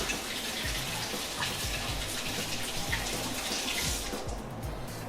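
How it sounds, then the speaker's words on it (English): Capers get rinsed under a running kitchen tap, a steady hiss of flowing water with small splashes and patters, continuous and fairly close, tapering slightly near the end. "So rinsing off these capers."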